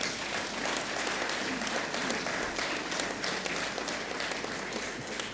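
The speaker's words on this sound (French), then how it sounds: "On peut les applaudir." An audience claps at a ceremony presenting a scroll to the Portuguese President in Côte d'Ivoire. The applause is continuous and evenly dense, with steady crackling hand claps that fill the whole stretch at a moderate, slightly distant level.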